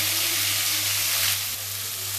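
Chunks of diced onion and capsicum fry in a pan, giving a continuous, fairly loud sizzle that dips slightly partway through. No one speaks.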